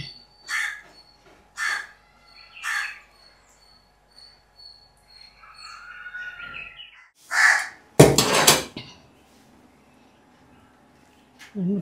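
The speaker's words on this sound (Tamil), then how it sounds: "காக்கா வர" A crow caws repeatedly outdoors, three spaced calls early on followed by more later, with insects buzzing faintly in the background and a brief sharp clatter near the end.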